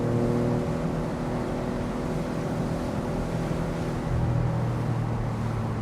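Maserati GranCabrio Trofeo engine and exhaust droning steadily while driving, a loud sustained rumble with a slight rise in intensity near the end, no voices.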